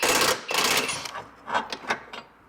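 A wrench ratchets out an 18 mm transfer case mounting bolt with a quick run of close clicking and rattling bursts, then a few separate clicks that trail off.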